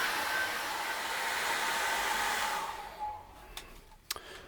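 A hair dryer blows steadily and loudly over thick acrylic paint for nearly three seconds, then switches off, leaving a few faint clicks and scrapes in the near silence.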